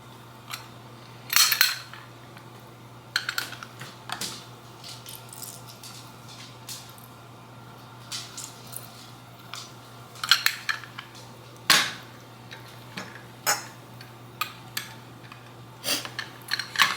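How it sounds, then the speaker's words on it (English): A lemon half is worked in a handheld kitchen juicer, giving irregular clicking, squeaking and scraping bursts of moderate loudness over a steady low hum, with no talk. "I'm gonna use my juicer to measure out 2 tablespoons of juice"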